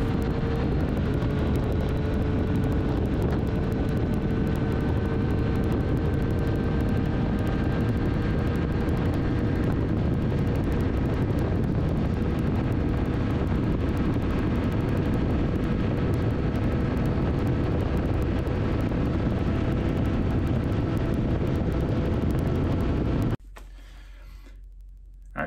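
A 2020 Triumph Street Triple RS fitted with an Akrapovic exhaust, cruising at highway speed with a sustained engine drone and heavy wind rush that cut off abruptly near the end.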